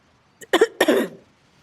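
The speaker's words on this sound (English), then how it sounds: "followed by a cough" A short cough, two quick bursts close together, near and clear against a quiet background.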